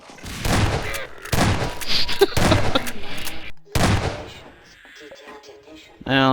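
Shotgun blasts from the video game Half-Life 2 Episode 1, several loud close booming shots in a rapid cluster with short pauses between, the last one ringing out into quieter game ambience.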